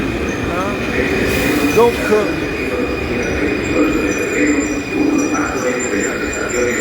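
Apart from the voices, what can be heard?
metro train arriving at station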